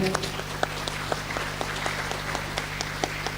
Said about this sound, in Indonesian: kita tepuk tangan dulu untuk kita semua pada hari ini